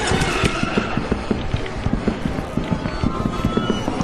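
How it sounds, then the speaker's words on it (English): Explosions and impacts in the video game Lethal Company: a dense run of sharp thuds and crackling bursts keeps going throughout the clip, loud and close, with no speech over it. "Thankfully, the explosion didn't affect me there"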